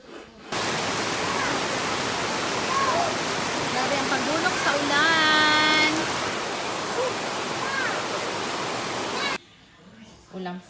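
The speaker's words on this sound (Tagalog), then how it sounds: "Grabe ang pagdulog sa ulan." Heavy rain pours down in a dense, loud, continuous roar, with a voice briefly audible underneath before the downpour drops off sharply near the end.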